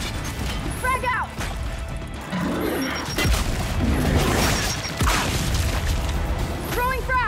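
Frag grenade thrown and detonating in the Gears 5 campaign, with booming, crashing blasts and clattering mechanical noise in a dense game soundscape, while a voice shouts briefly over the action.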